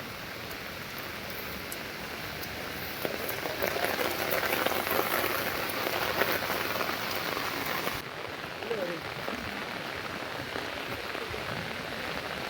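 Heavy rain pours down steadily at Kottiyoor, a dense, even hiss of drops on surfaces that swells slightly midway and continues throughout.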